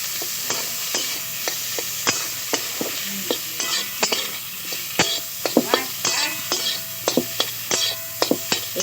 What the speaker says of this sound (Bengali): একটু নাড়াচাড়া করে নিয়েছি